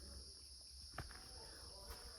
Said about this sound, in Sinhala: මේ රැහැයියෝ ඇය ගහන හඬ.